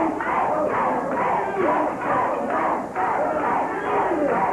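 A wrestling crowd in an arena cheers and roars in loud swelling waves, with rhythmic chanting pulses and excited babble.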